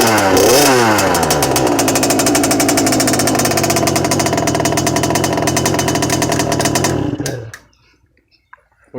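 A LEM 50cc kids' dirt bike with no clutch runs with a loud, buzzing single-cylinder drone. It revs briefly at the start, holds steady for about seven seconds, then cuts out into near silence.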